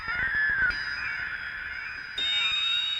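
An Ensoniq ESQ-1 synthesizer playing its noise 2 oscillator waveform, a steady hissy, breathy tone that holds for about three seconds, with a brief pitch sweep early on and a jump to a brighter, louder note near the end.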